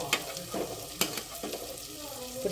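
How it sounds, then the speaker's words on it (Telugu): Chicken sizzling and frying in a pan with biryani masala for a spicy chicken pulao, with a steady crackle and faint stirring scrapes, no talking. "మనం చికెన్ వేసేసుకుందాం."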